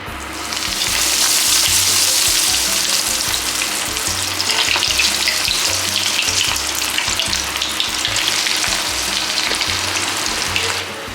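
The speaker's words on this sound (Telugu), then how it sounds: "ఆయిల్ హీట్ అయిన తర్వాత మనం ముందుగా ప్రిపేర్ చేసి పెట్టుకున్న లాలీపాప్స్ ఆయిల్లో వేసి" Veg lollipops deep frying in hot oil, a loud dense bubbling hiss that runs continuously and close up throughout, with no voices over it.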